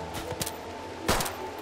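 Gunshots in a RimWorld firefight, a few sharp bursts, the loudest near the end, over a low steady game background.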